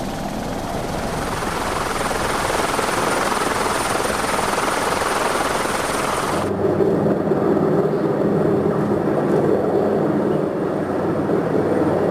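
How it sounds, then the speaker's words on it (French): A helicopter's loud, steady rotor roar fills the scene aboard a container ship off Le Havre, its tone shifting partway through to a lower, throbbing drone with a faint whine. "la dépose en hélicoptère est devenue courante au large du Havre ces dernières années"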